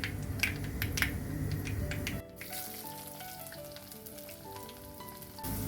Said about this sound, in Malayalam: ഇനി ഇത് നമുക്ക് മീഡിയം ഫ്ലെയിമിലിട്ട് നന്നായിട്ടൊന്ന് വഴറ്റിയെടുക്കാം